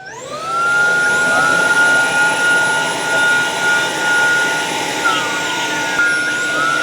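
Tineco S9 Artist Pro and S7 Artist wet dry floor mops run a self-cleaning cycle together, a loud steady high-pitched motor whine with shifting tones throughout, no speech.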